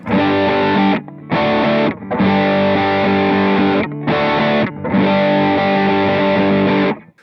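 A PRS SE Zach Myers electric guitar played through its neck pickup with heavy distortion and effects, loud sustained chords ringing in long blocks separated by brief pauses, with no talking.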